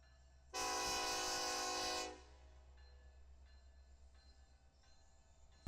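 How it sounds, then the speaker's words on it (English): A loaded BNSF freight train carrying aggregate blasts a loud, sustained horn for about a second and a half, then rumbles steadily past with a low continuous roar and faint rail clatter, no voices. "we caught a BNSF train, which is a loaded train of aggregate bound for aggregate unloader in Pearland, Texas"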